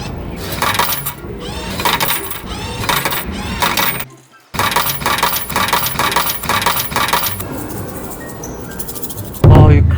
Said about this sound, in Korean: 일단 동전부터 교환할게요.